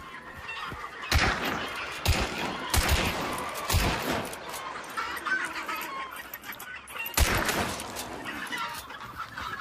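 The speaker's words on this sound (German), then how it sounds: "Oh, hier wird geschossen auf uns." Gunfire in the video game Hunt: Showdown, several sharp loud shots at irregular intervals with quieter ambient sound and faint clucking between them.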